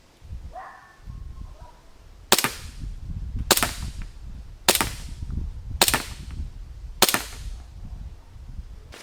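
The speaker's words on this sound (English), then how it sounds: "I'm just going to empty out the whole mag and look at that spread" Novritch SSP1 airsoft pistol firing five sharp, evenly spaced shots about a second apart, each a close snapping crack with a short fade, over faint background rustle.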